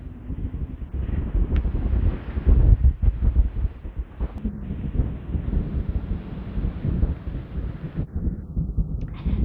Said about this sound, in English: I love how the wind blows the sand and it buries things all over the beach